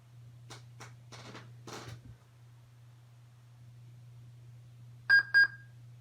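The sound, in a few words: old PC startup beep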